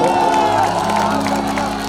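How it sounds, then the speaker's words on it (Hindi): A stage show crowd claps and cheers for the performer Golu at a Khesari Lal Yadav show, a loud, steady roar of applause and shouts with voices and tonal music mixed in. "और गोलू के लिए एक जोरदार ताली हल्ला करके बजाइए आप सब"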